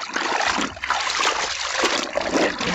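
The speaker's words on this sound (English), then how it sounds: "We're gonna put our jeans back in. And we are going to rinse these." Jeans being rinsed by hand in a basin of water, with continuous close sloshing, splashing and dribbling as the wet denim is worked through the water.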